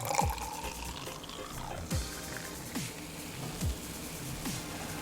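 Mountain Dew soda poured into a container, a steady fizzing, trickling pour with a few louder glugs spaced through it, close and fairly quiet, no speech.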